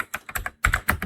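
Rapid bursts of computer keyboard typing while a network router's IP route command is entered, close and clear with two clusters of keystrokes separated by a brief pause.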